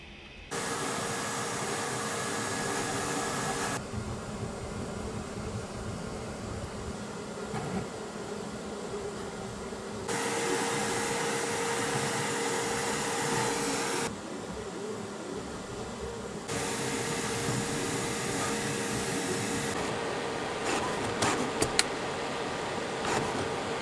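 A 3D printer runs while printing a part, its stepper motors giving a steady whirring hiss with buzzing tones that shift as the head changes moves, continuous and fairly close with no talking.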